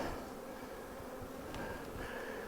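Honey bees buzz steadily around a hive during a busy spell of activity: a dense, continuous drone that stays fairly close and even throughout, with no voices.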